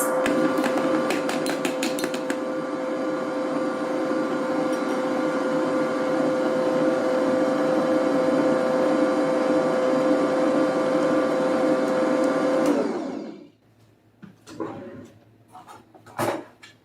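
An electric mixer beats butter for a 1970s strawberry gelatin cake, a loud steady motor whir lasting about twelve seconds before it cuts off, leaving a few faint clatters.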